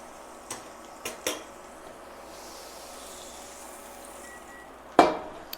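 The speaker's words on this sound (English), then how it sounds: "And I'm gonna add some butter in. Add that butter in." Butter going into a very hot pan while cooking honey garlic shrimp and sausage: a few light clinks of metal utensils, then a sudden sharp sizzle burst that quickly fades into a soft hiss.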